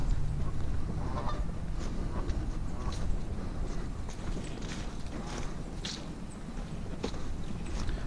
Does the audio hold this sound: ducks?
yes